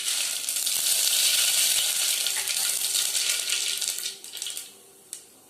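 Mustard seeds spit and crackle in hot oil, a dense, steady sizzle that holds loud for about four seconds, then thins out into a few scattered pops before fading near the end.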